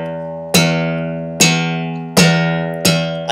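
Four sharp slapped bass string hits, each ringing with a deep sustained tone that slowly decays before the next strike, played alone.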